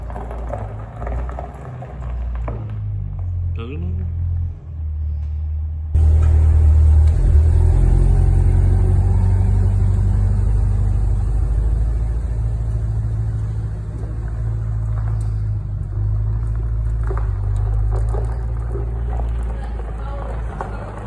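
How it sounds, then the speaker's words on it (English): A 2020 Corvette pulls in with a deep, loud engine rumble that swells and holds steady nearby, with a brief voice and outdoor noise before it arrives. "my wedding present just pulled in. 2020 Corvette."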